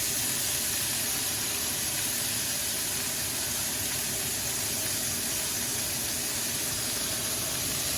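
Sliced purple potatoes pre-cook in a hot pan, releasing water as a loud, continuous steamy hiss and sizzle that stays close and unbroken throughout.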